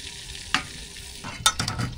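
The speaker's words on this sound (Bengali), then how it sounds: "জিরা ডালতেছে।" Cumin seeds hiss and sizzle in hot oil in a pot aboard a fishermen's river boat on a cloudy, rainy day, with two sharp clatters of stirring over a steady crackling frying bed.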